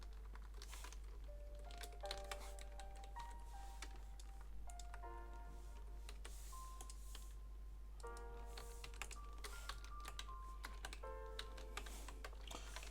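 Quiet keyboard typing, irregular clicks and short bursts of keystrokes, over a low steady hum with faint musical tones in the background, while making 16x16 pixel sprites for a game.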